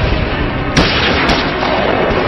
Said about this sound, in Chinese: 被枪炮声惊醒的张景惠立刻警觉到情况不妙